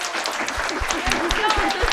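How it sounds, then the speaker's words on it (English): An audience gives a round of applause for youth ambassadors at a community presentation, dense steady clapping with a voice speaking over it. "a big round of applause for these amazing, amazing youth ambassadors"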